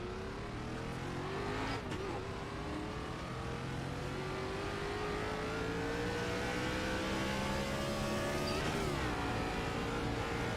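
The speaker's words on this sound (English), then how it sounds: "That's what a race car is supposed to sound like." A NASCAR race car engine revs loudly and continuously at a track in Michigan, pitch climbing steadily in long sweeps with a brief break before rising again, close and sustained throughout.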